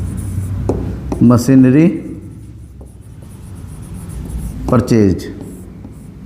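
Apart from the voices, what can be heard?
pen writing on paper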